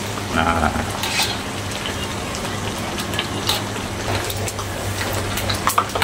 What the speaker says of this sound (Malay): Sebelah tu kita tengah goreng papadum.